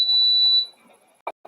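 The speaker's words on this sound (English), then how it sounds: "beeper in my house or your house? No, it's my alarm at my house." A house alarm gives one long, loud, steady electronic beep that cuts off, followed by two brief low knocks and near silence.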